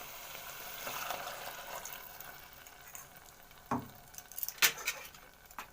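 Water poured into a pan of cooking chana masala, a soft sizzle and gurgle rising over a quiet frying hiss, with a couple of sharp splashy bursts near the end.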